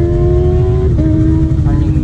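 A motorcycle with a loud aftermarket exhaust revs close by on a road, heard from another moving Suzuki Sonic 150R. It makes a steady, loud, buzzing engine drone that shifts pitch in short steps over dense road and wind rumble.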